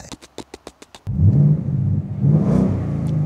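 A Ford Mustang V8 with an MBRP Race half exhaust, heard in Need for Speed Underground, fires off a rapid string of short blips, then settles into a loud, sustained rumbling rev that swells and eases.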